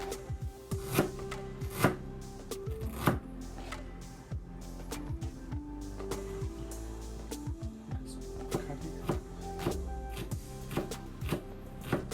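A knife on a board cuts ginger into big chunks, a string of close firm chops and taps in an uneven rhythm, some thuds heavier than others, with no voice over them.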